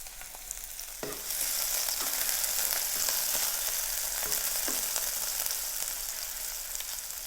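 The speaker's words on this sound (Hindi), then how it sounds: "तेल गरम हो चुका है। अब हम इसमें 1/4 कप कटे हुए प्याज डालेंगे।" Chopped onions go into hot oil and fry with a loud, steady crackling sizzle that swells after the first second and keeps going, with a few faint clicks of a spoon.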